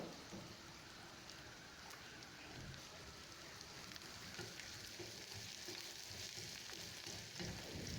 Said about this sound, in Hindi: अब मैं इनको गोल्डन ब्राउन होने तक फ्राई करूँगी।